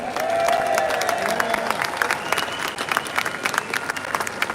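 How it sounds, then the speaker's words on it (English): A rally crowd at a street march in the United Kingdom claps and cheers for a speaker, dense applause that stays strong throughout, with scattered voices. "a big massive round of applause for Danny Lockwood"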